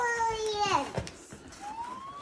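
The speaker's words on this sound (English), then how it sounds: "It has a siren. You just need to press this button, and then it goes there." A toy Barbie ambulance's siren wails in a falling then rising sweep, fairly faint, with someone talking and playing nearby.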